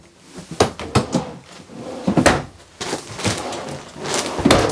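Several drawers along the bottom of a 2025 Brinkley Model Z Air 310 RV slide and bump shut one after another, close by, with sharp knocks and rattles at irregular intervals.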